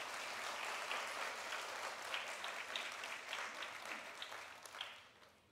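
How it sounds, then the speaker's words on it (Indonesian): A church congregation applauds with a soft, even wash of many hands clapping, heard from a distance and fading toward the end. "Boleh tepuk tangan sekali lagi ya?"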